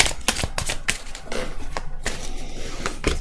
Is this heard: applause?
no